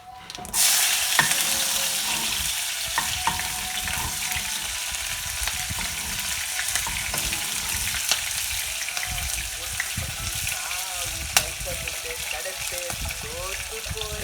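Sautéing in a pan while making Mumbai poha, a loud, steady sizzle that starts abruptly and continues throughout, with scattered clicks and light stirring noises, and a voice faintly audible underneath.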